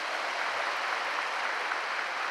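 Steady broadband clapping from a congregation during a Korean church devotional worship service for business people, sustained and even throughout with no talking.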